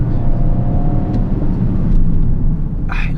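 An Audi RS in sport mode accelerates hard, a loud, steady close-up engine roar with dense low rumble and rising drive noise throughout, no talk.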